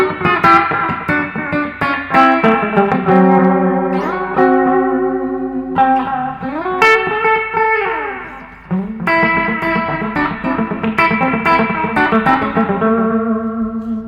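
An electric guitar plays through a Subdecay Echobox echo pedal with modulation turned high, each note repeating and smearing into wavering, slightly detuned trails, loud and close.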